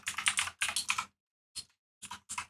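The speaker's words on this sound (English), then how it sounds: "Oh man, I do not like this keyboard." Quick bursts of close computer keyboard typing during a StarCraft 2 gaming session, clattering keystrokes in several short flurries separated by pauses, with no talk.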